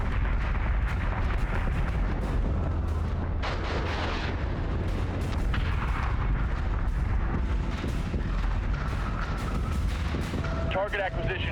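Ship weapons fire rumbles steadily in the space battle game Battlestar Galactica Deadlock, with continuous heavy booming and crackling barrages that stay loud and dense, and a radio voice is heard over it.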